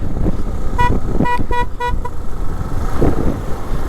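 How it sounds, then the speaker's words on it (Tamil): Heavy road traffic in the rain at Munnar, with a nearby car horn tooting several short rapid blasts, then engine rumble and passing vehicles continuing loudly around the listener. "ஆனால் மூணாரில் சரியான டிராஃபிக்குங்க"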